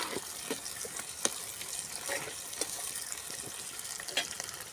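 Small shallots sizzling in oil in a pan for squid curry, a soft steady frying hiss with scattered pops and crackles, close by and without speech.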